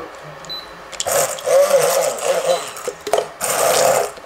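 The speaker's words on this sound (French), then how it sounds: "Là on va mixer un petit coup." A kitchen blender whirs in short bursts through a purée of mango and passion fruit, two main runs of grinding motor noise separated by a brief pause, with soft handling sounds before it starts.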